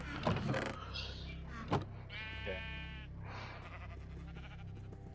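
A sheep in a video game bleats with a short, wavering cry in the middle, set among soft clicks and shuffling game sounds at low volume, with no talking.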